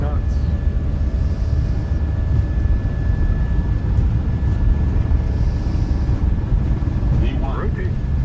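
Airliner accelerating down the runway for takeoff in a flight simulator game, a steady loud broadband engine roar that holds level throughout, with a voice making brief callouts over it near the end.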